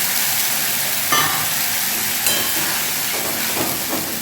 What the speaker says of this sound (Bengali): তার সাথে বাকি যে চিকেন স্টক একটুখানি ছিল এটা দিয়ে দিলাম